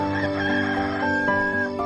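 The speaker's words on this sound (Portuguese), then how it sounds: "Imediatamente cantou o galo." A rooster crows loudly and close in one sustained, harmonic-rich call that fills the moment, heard alone without speech.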